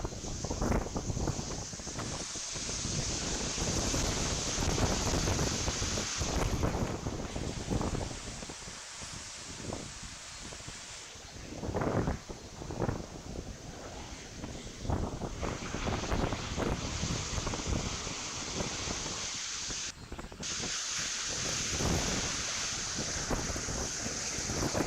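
Strong hurricane wind from Hurricane Beryl roars steadily and loudly for the whole stretch, buffeting the microphone in gusts, with surf and waves churning beneath it.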